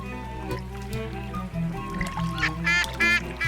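Mallard ducks calling on Lake Constance, with a few quacks rising over a steady, low hum of background sound that grows louder toward the end, and no talk.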